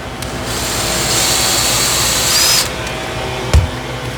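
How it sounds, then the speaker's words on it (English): A power drill whines steadily for about two seconds as it bores into a wooden arch, close and loud, then stops, followed by a brief thump. "we're going to go ahead and drill the bottom of the arch too, just so the wood doesn't split"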